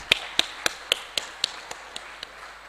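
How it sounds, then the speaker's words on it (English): A small group of panelists' audience at a space conference in Malawi gives a sparse round of claps, about ten distinct sharp hits spaced evenly and fading slightly, with no talking over them. "Let's clap hands for the panelists."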